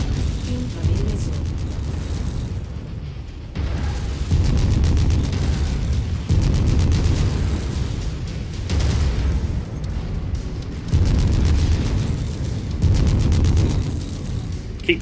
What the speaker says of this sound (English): They managed to survive that massive explosion!